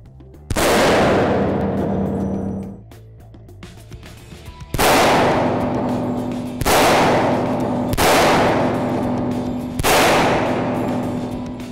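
Five loud gunshots from a Smith & Wesson 1911 Performance Center pistol fitted with laser grips, each a sharp close blast with a ringing decay, the first followed by a pause and the rest fired at a steady pace.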